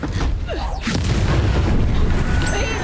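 Confringo blasting spell from the Hogwarts Legacy video game, a loud booming burst at about one second that rolls into sustained rumbling crackle with mechanical creaks, dense and continuous through the rest.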